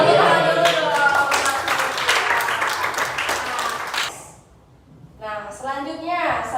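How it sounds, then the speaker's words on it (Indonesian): Classroom audience clapping hands, a burst of rapid claps under a speaking voice for several seconds, then a brief lull before speech resumes. "Tepuk tangan dulu dong."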